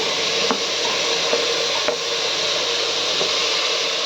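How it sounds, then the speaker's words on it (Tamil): Brinjal, carrot and other vegetables sauté in a pan with a steady close sizzle, broken by a few soft scraping stirs. "இது போட்டு ஒரு நிமிஷம் வதக்கட்டும்"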